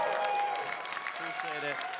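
At the end of a FAN EXPO San Francisco panel, an audience claps for Star Wars actor Eman Esfandi while a voice talks over the moderate applause.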